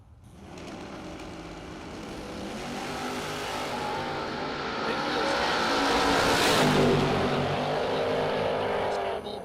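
A Corvette drag racing car at a drag strip event builds from a roaring rev into a loud launch, the engine note climbing steadily and swelling nearer over several seconds amid track ambience with an announcer talking over it.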